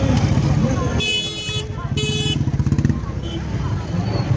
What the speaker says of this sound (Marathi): आता ही एवढी घाण ट्रॅफिक आहे.